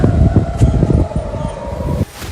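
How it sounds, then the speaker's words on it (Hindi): Air raid sirens wailing in Israel during a missile attack: a loud, steady electronic tone that holds without a break, then cuts off sharply near the end, leaving quieter background noise. "सायरन्स हो रही हैं।"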